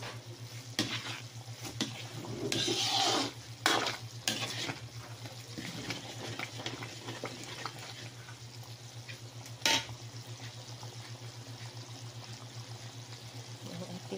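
Latik, coconut curd for biko, stirred in a sizzling pan, with a bubbling fry throughout and bursts of scraping spatula strokes, close and fairly loud, no voices.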